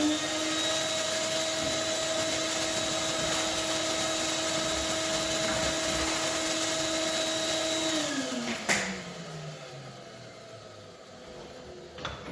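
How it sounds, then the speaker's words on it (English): A vacuum drones steadily at close range as it sucks debris out of a router-cut mould, then winds down after a sharp clunk, its pitch sliding lower as it spins to a stop. "I can vacuum out the mould and remove the part."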